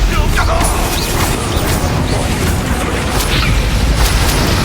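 Fire spell cast in Hogwarts Legacy amid a dense, continuous roar of booming blasts and crashing combat effects, loud and sustained throughout with game voices faintly mixed in.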